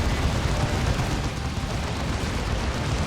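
A las cannon fires in Dawn of War 2 battle, a loud, dense roaring blast wash filling the whole clip with rumbling explosive energy and no pauses, no voices heard.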